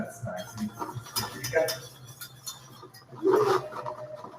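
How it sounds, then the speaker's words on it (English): Grated cheese whisked into a cheese sauce for cacio e pepe, with light metallic clinks and scraping of a whisk against a pot, close by, under intermittent talk. "I'm going to put all of this grated cheese into the cheese sauce right now, and I'm going to whisk it in"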